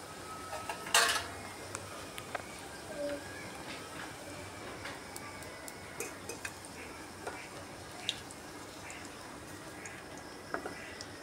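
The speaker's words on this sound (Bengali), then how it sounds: "বেরেস্তাকে একটা পাত্রে উঠিয়ে নিলাম।" Fried onion crisps being lifted from a pan into a bowl, heard as quiet, scattered scrapes and light clinks of a utensil against cookware over a low kitchen hiss, with one brighter clatter early on.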